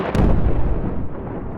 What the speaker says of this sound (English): Rocks being exploded from where they've been sitting for millions of years.